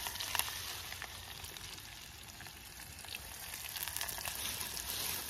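Mustard seeds, cumin and onion fry in a pan with a soft, steady sizzle and faint crackles, quiet and close, with no talking.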